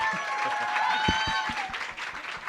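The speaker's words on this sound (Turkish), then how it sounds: "Bir alkış alalım" Audience applause in a studio, a scattered burst of clapping with a few sharp individual claps standing out, heard under a voice talking over it.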